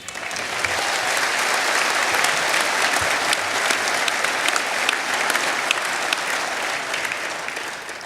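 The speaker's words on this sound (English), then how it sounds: "And for that, you deserve a round of applause." A large crowd applauds steadily at a Brexit Party rally in Peterborough, a dense wash of clapping that holds at an even level throughout.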